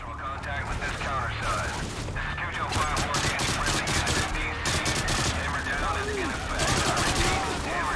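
Repeated bursts of automatic gunfire in the Call of Duty Modern Warfare 2 video game crackle over a busy battle soundscape, loud and near, with a few separate volleys across the stretch.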